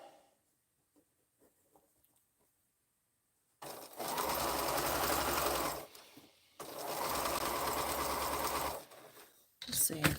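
A sewing machine stitches a quilt curve from the underside, running in two steady, loud bursts of a few seconds each after a quiet start, with a brief voice near the end.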